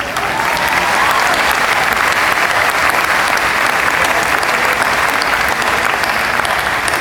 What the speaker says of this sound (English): Gotta give you a clap.